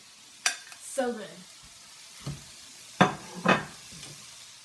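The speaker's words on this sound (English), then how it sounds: "So now I'm going to put them in here. Sizzling noise." Scallops sear in a hot pan, bursts of sizzling hiss as they are laid in, several short sharp crackling flares spaced apart, with a brief spoken remark.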